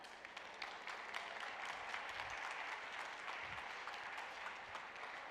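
Steady applause from a lecture audience fills the room, a dense, even patter of many hands clapping without pause.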